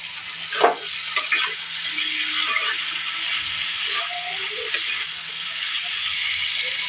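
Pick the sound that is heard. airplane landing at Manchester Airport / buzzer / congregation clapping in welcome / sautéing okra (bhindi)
sautéing okra (bhindi)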